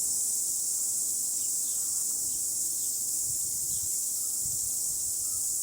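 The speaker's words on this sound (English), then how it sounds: "I seriously love the sound of cicadas." Cicadas outdoors near Warkworth keep up a steady, high, shimmering drone that holds throughout at an even level, with faint low rustling underneath and no voices.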